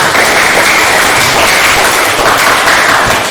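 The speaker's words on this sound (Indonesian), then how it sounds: "tepuk tangan untuk kita semua." A vocational school automotive class claps together in a classroom, producing a loud, dense, steady round of applause that lasts a few seconds.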